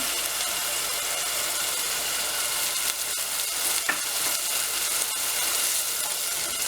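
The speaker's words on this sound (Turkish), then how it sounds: "Şöyle bir karıştırıyorum." A Mediterranean-style sour zucchini dish with salt, dried mint and fresh mint leaves is stirred in a pot, a steady close sizzle broken by a few soft scraping strokes, with no talking.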